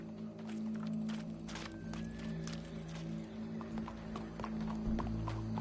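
Horse hooves clip-clop steadily in Red Dead Redemption 2, a continuous walking rhythm of soft, close thuds over a low ambient hum, with no voices.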